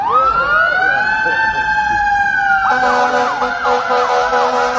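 A loud ambulance siren rises in a long wail, then switches to a rapid yelping warble, close by, with faint voices beneath it.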